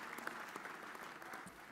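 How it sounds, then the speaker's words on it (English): Audience applause at a roast for Tom O'Neil, a continuous dense clapping from a crowd at moderate distance, even and sustained throughout with no voices over it. "just let's give that a big round of applause."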